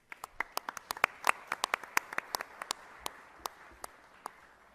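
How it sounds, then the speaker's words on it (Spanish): A small audience at a panel on technology in electoral processes claps sparsely for a few seconds, with distinct individual claps rather than a full ovation, faint and thinning out. "Un aplauso, por favor."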